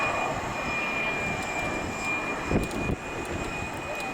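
An American Eagle Embraer E170 jet taxiing toward runway 14 left at Champaign Willard Airport, its engines giving a steady, fairly close whine and roar with a thin high tone, plus a brief bump partway through.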